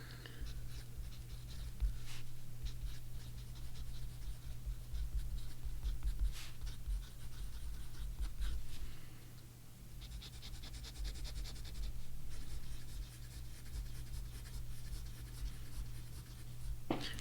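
A fountain pen nib scratches across paper with a dry, pencil-like scraping, close and faint, in short strokes and pauses over a low steady hum.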